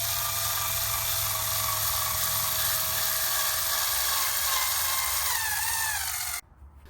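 Electric cordless screwdriver driving a 75mm screw into a gazebo frame, a loud continuous high whine held close for over six seconds before stopping abruptly.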